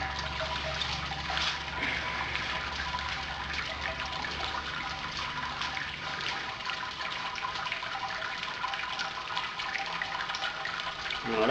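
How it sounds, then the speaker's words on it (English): Wort drains from a Robobrew grain basket holding a Czech lager mash, a continuous splashing trickle of liquid pouring down, close and steady for the whole stretch with no voices. "We'll let that drain and we'll sparge that"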